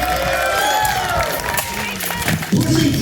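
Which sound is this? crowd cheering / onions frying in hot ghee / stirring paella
crowd cheering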